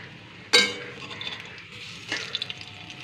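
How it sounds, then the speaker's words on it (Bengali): Water spinach fritters fry in hot oil with a soft, steady hiss, broken by a sharp metal clink early on and a lighter utensil scrape later. "এই যে বড়া ভাজছি"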